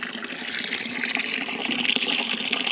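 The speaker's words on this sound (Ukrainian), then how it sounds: "Тут витікає водичка з цього басейну, ну а тут безпосередньо джерельна," Spring water gushes steadily out of a fountain basin outdoors, a close, continuous bright splashing and trickling with no voices.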